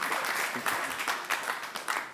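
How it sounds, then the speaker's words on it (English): Audience applause at a 2018 crypto summit after an ICO project pitch: a steady wash of many hands clapping from a moderately distant crowd, fairly soft and continuous, with some speech mixed in. "please clap your hands for ShareWorld"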